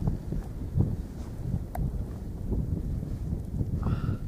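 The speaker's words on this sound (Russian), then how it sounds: "Но немножко ветер дует, очень даже." Steady wind buffets the microphone with a low, continuous rumble, broken by a few faint bumps and clicks.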